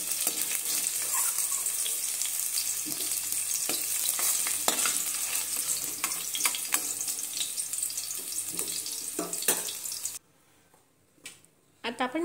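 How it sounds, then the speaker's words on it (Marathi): Cabbage frying in oil for an aloo gobi matar masala, a bright continuous sizzle with frequent stirring scrapes and clatter, then cutting to near quiet with faint knocks near the end. "कोबीलाही थोडा फ्राय करून घेऊ"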